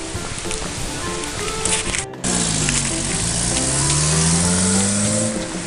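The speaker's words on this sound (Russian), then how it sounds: "дождик." Light rain outdoors beside a city square between two roads, a steady hiss of drops on surfaces with a passing car humming low near the end, fairly close and continuous.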